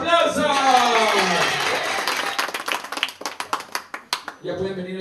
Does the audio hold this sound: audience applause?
yes